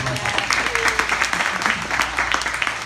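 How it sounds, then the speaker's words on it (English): A seminar audience gives brief, moderate applause in a room, with a faint low hum and some voices mixed in beneath the clapping. "So that deserves a round of applause."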